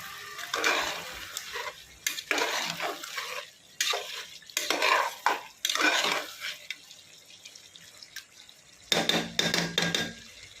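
Chopped tomatoes tipped into a pot of chicken biryani masala, followed by bursts of scraping and stirring with a spoon against the metal pot, close and clattery, separated by short quiet gaps.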